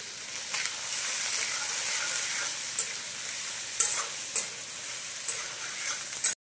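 Finely chopped onions frying in hot oil, a steady close sizzle with a few sharp clicks of a utensil stirring, then a sudden stop.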